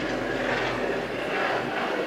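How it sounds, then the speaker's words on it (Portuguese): A helicopter flies overhead, heard as a steady, loud, broadband rotor and engine rumble that holds without a break, with no speech. "Acho que é helicóptero esse."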